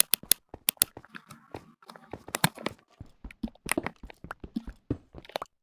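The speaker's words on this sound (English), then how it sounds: "You may be hearing clacking and clicking sounds. Those are my gamepad." Built-in gamepad buttons on a handheld device clack and click during Minecraft play, a dense stream of sharp, close taps in an irregular rhythm, some louder and some quieter.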